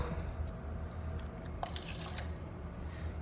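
Water trickled in small amounts into an aquarium acclimation container: faint, soft drips and splashes, with a short cluster of wetter splashing in the middle over quiet background hiss.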